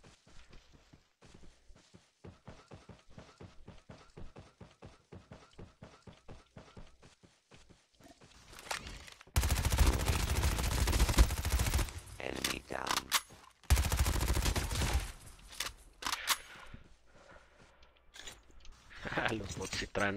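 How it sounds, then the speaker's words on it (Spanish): Rapid bursts of Call of Duty gunfire, loud and close, with sustained automatic fire in the middle stretch, while people talk over it. "Sí, escuché disparos para acá."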